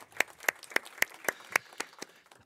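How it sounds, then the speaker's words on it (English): Sparse applause at a business conference day, about nine distinct sharp claps spaced roughly a quarter second apart, like a few people clapping slowly at moderate distance, with faint room murmur between them. "I think we have a round of applause for that."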